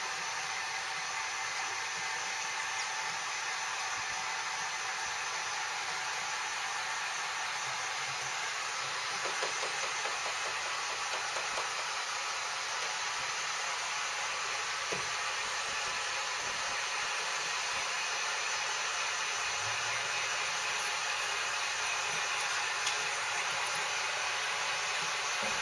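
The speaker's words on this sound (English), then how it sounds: "I like to start in the middle and heat it up with a heat gun" A heat gun blows a steady, loud whooshing roar as it heats KeelEazy keel protection tape on a boat hull, running continuously without pause.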